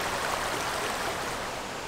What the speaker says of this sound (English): That's a river.